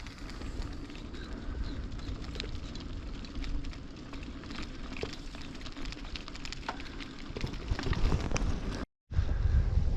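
Steady east wind blows across open fields and deciduous woodland in early spring, a continuous broadband rush with a few faint bird calls, briefly cut to silence near the end before resuming louder.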